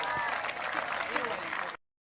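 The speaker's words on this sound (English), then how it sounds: "Round of applause there for Kim." Audience applause at a Highland Games stone-throw event, a dense steady clapping for about 1.8 seconds with a commentator's voice over it, then cutting to silence.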